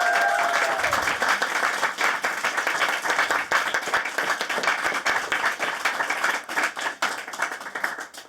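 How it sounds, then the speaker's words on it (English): A loud round of audience applause for a cast and crew at a VIP reception and awards event, brisk, dense clapping that holds for several seconds, with a brief tone near the start and uneven swells toward the end. "Please, a big round of applause for them."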